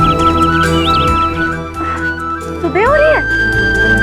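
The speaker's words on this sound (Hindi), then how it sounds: "चिड़ियों के चहकने की आवाज आ रही" Birds chirp in the early morning, with faint warbling calls and one clearer, louder trill, heard under a steady low hum and soft nearby voices.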